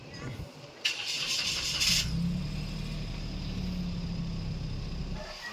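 A Toyota Wigo that has been driven through floodwater cranks with a short whirring starter burst, then catches and settles into a steady, low idle nearby.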